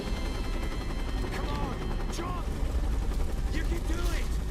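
Helicopter and gunfire in the video game Tomb Raider: steady rotor drone with bursts of rapid automatic shots, loud and dense throughout, while a voice speaks over the action.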